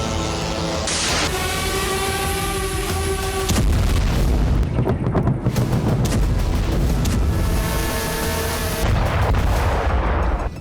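Heavy booms and blasts from Russian strikes on Ukrainian cities, loud and dense across the whole stretch, with rumbling low impacts over a sustained roar and a tonal whine early on.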